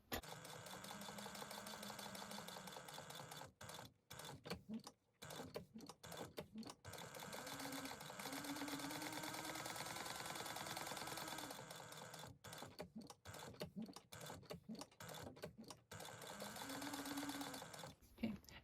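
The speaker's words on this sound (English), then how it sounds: "we are going to back stitch on this one" Close sewing machine back stitching a wallet, humming needle runs broken by frequent short stops and restarts as the stitch reverses, fairly quiet overall.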